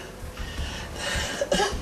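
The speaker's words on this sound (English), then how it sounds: "You see this cough you're coughing?" A few short, close coughs and breathy throat sounds from one person, with no talking.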